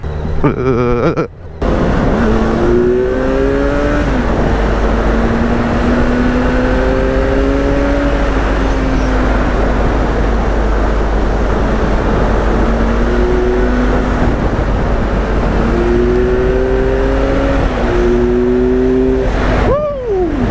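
A 2018 Kawasaki Z900 motorcycle engine revs and accelerates through several rising gear-like pulls, loud and close, then eases off near the end.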